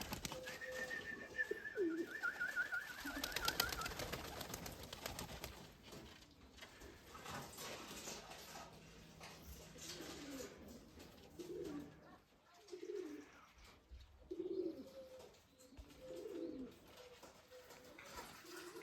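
Pigeons coo in soft, repeated bursts at a moderate distance after being tossed into the air, with faint flutters and outdoor background noise; quiet overall.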